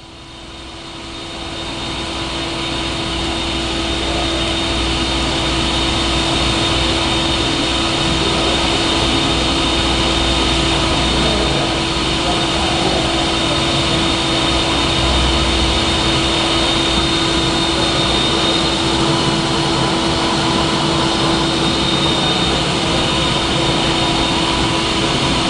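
Two Verteq 1800 spin rinse dryers spin steadily at 1200 RPM, a loud continuous mechanical whir with a fixed tonal hum that swells up over the first few seconds and then holds level, with no talking.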